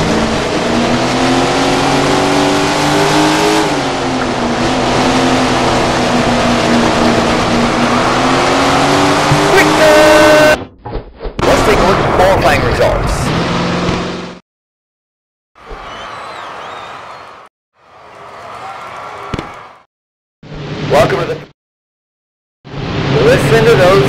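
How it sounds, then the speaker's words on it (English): Sprint car engines roar in the Tony Stewart Sprint Car Racing video game, a loud continuous revving drone that then breaks into choppy bursts separated by gaps of silence. "Listen to those engines roar as they roll over the line."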